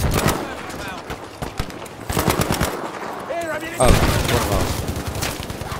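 Gunshots crack in Battlefield V as bursts of automatic fire come loud and close, spaced by short pauses, while someone talks over the shooting.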